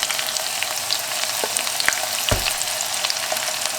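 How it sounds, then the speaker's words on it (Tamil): Chopped onion sautéing in a pan as the base for a fish curry, an even bright sizzle with a few sharp stirring clinks and scrapes close by. "இப்போ வெங்காயம் வந்து வதங்கிடுச்சு"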